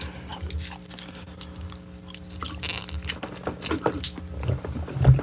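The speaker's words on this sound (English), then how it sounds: "popping the nicotine gum" Someone chewing and popping nicotine gum close to a microphone, with soft wet smacking and squishy mouth sounds repeating irregularly over a steady low background hum, getting a little louder toward the end.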